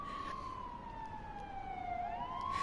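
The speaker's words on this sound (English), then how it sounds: "Look at all those police cars." Police car sirens in Persona 5 Royal wail with a steady, gliding tone that dips and rises over about three seconds, with no talking.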